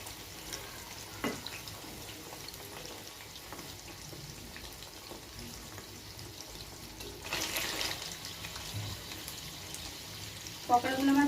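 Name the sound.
chicken pakoras frying in oil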